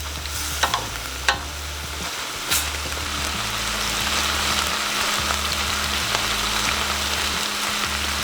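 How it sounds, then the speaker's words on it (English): Keto beef and broccoli simmering in a thickening sauce in a pan, a steady close bubbling sizzle with a few sharp clinks early on and a low hum underneath, no voices. "let that simmer for a couple more minutes, guys, and let the sauce kind of cook down and thicken up"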